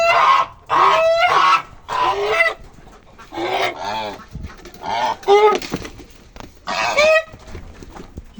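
Loud, harsh honking calls from several geese come in repeated bursts with short pauses between them, close by.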